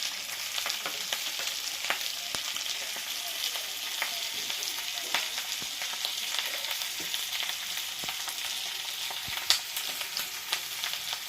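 Potatoes being stirred and fried in a pan, with a steady bright sizzle running throughout and small scraping knocks from the stirring, close and alone with no talk.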